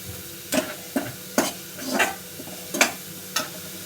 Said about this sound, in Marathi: परतून घेतलं म्हणजे ते कसं करपत नाही चांगली शिकली जाते भाजी